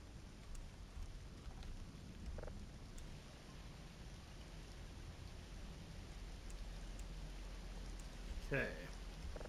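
Steady rain in the game Voices of the Void, a low, constant wash of noise beneath a few brief, faint bits of talk.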